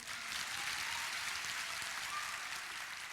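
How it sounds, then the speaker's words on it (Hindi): A seated audience at a farmers' and youth gathering claps together in a dense, even burst of applause that holds steady throughout. "एक बार जोर से ताली बजाएंगे आप लोग"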